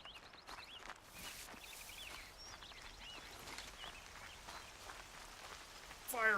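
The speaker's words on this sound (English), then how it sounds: "Hard rain." Heavy rain falls steadily in Horizon Zero Dawn, a soft, faint, continuous patter with scattered droplet ticks and no talking.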